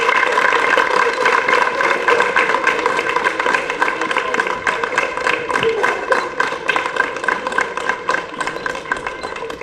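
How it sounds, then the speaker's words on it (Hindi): Audience applause at a theatre event, sustained rhythmic clapping from a sizable crowd that carries on steadily throughout and fades slightly toward the end. "तो चेतन जी के लिए जोरदार तालियां।"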